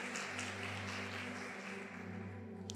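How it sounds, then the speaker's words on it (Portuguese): A church congregation applauds loudly for the Lord, a sustained wash of clapping heard over a steady low hum with no voices. "Se é para aplaudir o Senhor, aplauda bem forte."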